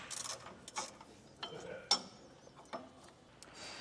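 A ratchet wrench loosens a 15mm bolt on a 2023 Jeep with a few sparse metallic clicks and a brief clink, faint and close, separated by quiet gaps.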